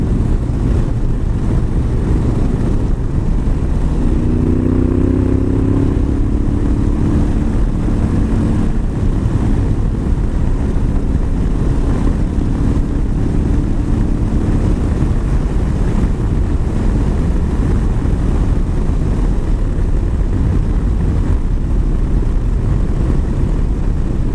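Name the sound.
Honda Africa Twin motorcycle with aftermarket exhaust riding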